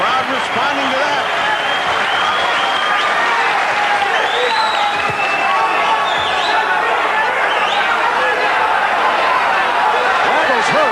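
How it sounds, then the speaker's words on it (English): A boxing arena crowd roars and buzzes in reaction to two hard right hands landing, a dense, loud wall of cheering and chatter that holds steady throughout, with a commentator's voice running under it. "Crowd responding to that."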